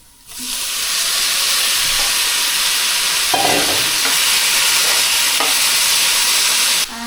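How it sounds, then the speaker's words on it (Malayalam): Tomatoes drop into a hot oiled pan and set off a loud, steady sizzle that starts abruptly and hisses on for several seconds, with a few soft stirring scrapes partway through. "നമുക്കിനി നമ്മുടെ മെയിൻ ഇൻഗ്രീഡിയൻ്റ് ആയിട്ടുള്ള തക്കാളി ചേർക്കാം"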